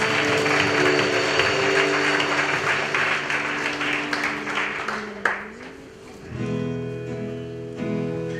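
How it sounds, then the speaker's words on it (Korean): A church congregation claps at a worship service, a dense round of applause under organ or keyboard chords that fades after about five seconds as the music carries on alone. "주님께 감사와 찬양 박수 올려드립시다."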